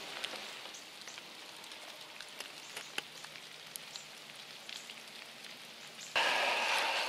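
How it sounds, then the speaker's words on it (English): Heavy rain pours steadily outdoors in a wet hunting area, a dense close patter of drops on surfaces with scattered louder hits, ending in a sudden loud burst of noise. "it's still raining pretty hard. It hasn't really let up"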